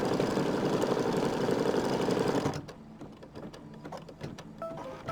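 An embroidery machine stitches to tack down fabric, a loud, steady mechanical whir for about two and a half seconds that then drops to quieter, irregular clicks and taps.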